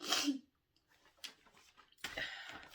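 A single sharp sneeze right at the start, close and loud, followed by faint rustling and quiet breathy sounds.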